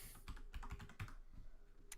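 Rapid clicking of keys typed on a computer keyboard, a steady run of close, distinct taps with no speech.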